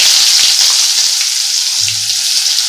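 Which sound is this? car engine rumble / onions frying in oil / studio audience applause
onions frying in oil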